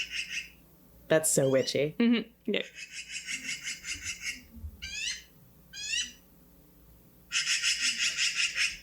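A black-billed magpie gives harsh, raspy chattering bursts and short ascending calls, heard in several separate outbursts alongside a brief stretch of people talking nearby.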